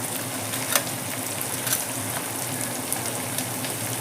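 Green leaves fry steadily in a pan for chutney, giving a continuous hiss and sizzle with a few faint clinks of a stirring spoon, no talking over it.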